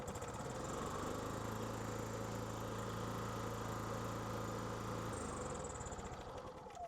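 A Coachmen Cross Trail 20XG RV generator starts and settles into a steady, even engine hum that runs loud and constant from start to finish with no talking.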